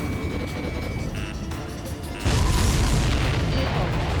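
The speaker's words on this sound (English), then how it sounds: "Did you see that explosion? Looks like that's one of them down." A ship blows up in the flight combat game Ace Combat 7: a sudden heavy boom halfway through gives way to a loud, sustained roaring rumble, with no speech over it.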